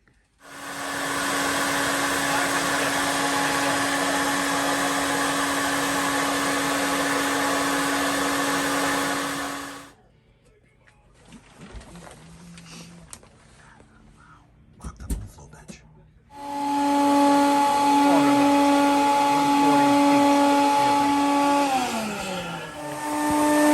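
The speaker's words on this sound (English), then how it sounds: "So this is the stock cylinder head with the turbo intake on it on the flow bench." Air rushing steadily through a stock turbo cylinder head and intake on a flow bench, a loud, constant roaring whine for about ten seconds, then quieter handling noises, then the roar resumes with a rising tone.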